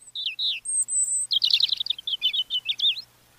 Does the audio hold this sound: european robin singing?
yes